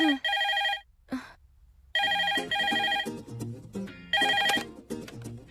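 A telephone rings in repeated electronic bursts of bright, warbling tones, loud and close, with short gaps between rings and no voices over them.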